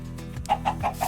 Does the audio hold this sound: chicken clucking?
yes